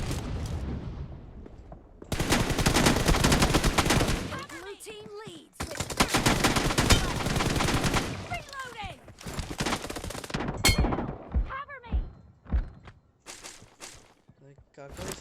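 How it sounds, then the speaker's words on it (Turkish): Bursts of rapid video game gunfire in several volleys, separated by short gaps, with brief voice-like sounds and effects between shots. "Kerem şu an tabancayla alıyor ve dalga geçiyorum sanıyor"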